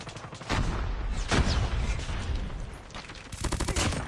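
Type 25 assault rifle firing in COD Mobile, a loud burst opening the clip, another around the middle and a rapid automatic volley near the end, with game noise in between.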